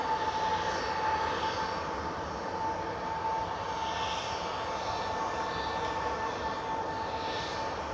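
SunExpress jet airliner at Manchester Airport spooling up for takeoff, a steady distant engine roar with a thin whine and gusting rumble throughout, heard outdoors without talk.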